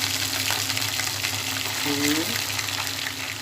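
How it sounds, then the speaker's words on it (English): Ginger garlic paste frying with browned onion in a hot pan, a steady loud sizzle with a brief stirring scrape midway, alone with no talk. "3 teaspoons of ginger garlic paste. Fry it well."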